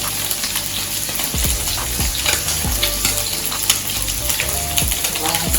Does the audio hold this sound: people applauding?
no